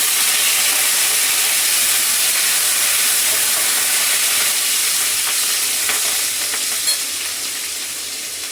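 Cumin, garlic and curry leaves sizzling loudly in hot oil, a dense continuous hiss and crackle that eases slightly toward the end.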